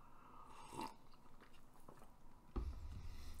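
Someone bites into and chews peanut butter with Reese's peanut butter cup bits, soft close-up crunching and mouth sounds with one sharper crunch near the end, quiet and without talk.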